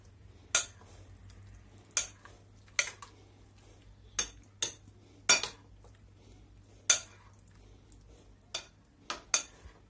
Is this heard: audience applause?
no